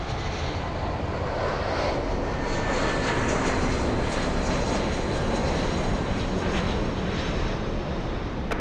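A heavy Boeing Dreamliner jet takes off at LAX with a loud, steady roar that holds unbroken throughout and gives no sign of fading.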